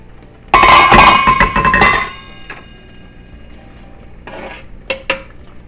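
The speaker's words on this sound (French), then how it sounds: "Je rajoute dans mon faitout" Ingredients such as bay leaf and garlic cloves tipped into a cooking pot for a veal blanquette with green olives, a loud clattering burst of metal and food lasting over a second, then a few quieter clinks.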